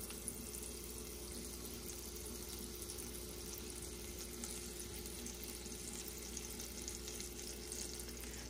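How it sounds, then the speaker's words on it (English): Sage leaves fry in browning butter in a pan, giving a dense, even sizzle that holds steady throughout, close up with no voices. "I actually do want to fry the sage a little bit in here first"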